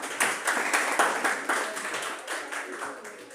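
An audience claps in support during a patriotic song performance, a steady patter of many hands close by with some loud peaks, fading slightly toward the end.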